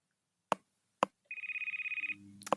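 A phone rings with an incoming call, a rapid trilling electronic ring lasting under a second, set between sharp clicks and followed by a lower tone, close and clear.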